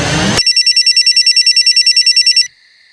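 A telephone rings with a rapid, steady electronic trill of many even pulses for about two seconds, loud and alone, then cuts off to a faint lingering tone.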